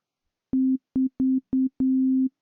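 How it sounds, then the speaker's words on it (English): A synthesized sine tone sounds in five steady bursts, four short and a final longer one, each starting with a noticeable click, clean and alone with no other sound. "Oh, nice sine wave. A bit clicky for my taste."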